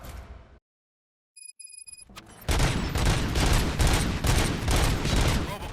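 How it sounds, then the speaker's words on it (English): A sudden burst of rapid gunfire in the video game RoboCop: Rogue City erupts after a brief silence, loud and sustained, with sharp repeated shots layered over a dense, noisy background. "Gunshots? What's going on?"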